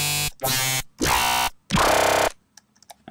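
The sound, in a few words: growl bass synth preset in Native Instruments Massive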